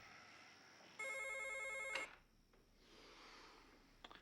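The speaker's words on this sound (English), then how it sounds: "now one of many phone rings in the movie" Telephone in a 1997 film ringing with one loud electronic trill of rapid pulses lasting about a second, followed by quiet room tone and a few faint clicks.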